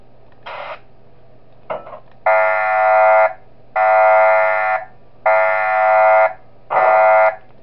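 A fire alarm in the Five Nights at Wario's Cabin Fever video game, loud, harsh buzzing blasts sounding about once a second apart in a repeating pattern, after a couple of shorter bursts, over a low steady hum.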